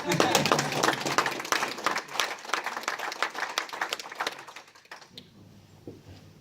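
An audience at a chamber of commerce business evening claps, dense applause that gradually thins into scattered claps and stops after about five seconds, leaving quiet room sound.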